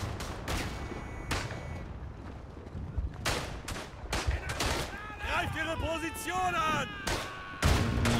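Gunfire in the First World War shooter Verdun, repeated sharp shots and bursts, some loud and close, others more distant, while someone talks over the shooting.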